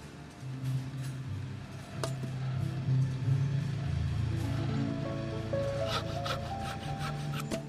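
A saw cuts through wood in the point-and-click game The Safe Place, with repeated rasping back-and-forth strokes, close and fairly loud, finishing with a few sharper scraping bursts and no speech.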